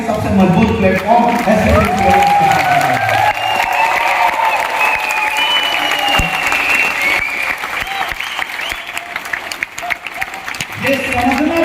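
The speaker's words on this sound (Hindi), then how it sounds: "इस हॉल की सबसे बड़ी तालियां होनी चाहिए" Loud applause fills a hall at a direct-selling achievers' event in Goa, sustained for several seconds with crowd noise, cheering and a voice carrying over it before it thins and swells again near the end.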